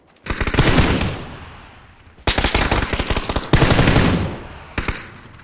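Machine gun fire in a shooter video game comes in three long, loud automatic bursts and a short fourth one, rapid rattling shots with brief pauses between.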